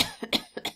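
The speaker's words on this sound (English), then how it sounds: "You can have a bad cough like" A person coughs twice, each a short pair of harsh bursts, close and fairly loud, with a brief pause between them.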